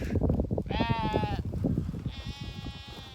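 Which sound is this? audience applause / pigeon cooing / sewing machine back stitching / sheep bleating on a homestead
sheep bleating on a homestead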